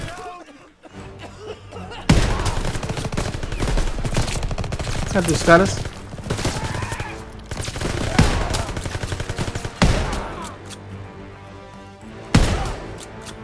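Dense gunfire rings out in the Call of Duty video game: loud bursts of automatic fire and single shots crack over and over in uneven volleys, with short pauses between them, while players talk over the action.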